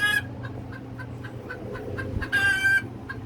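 Hen in a chicken coop gives a run of rhythmic, evenly spaced clucks, broken by two louder, longer squawking calls, close and clear over low background rumble.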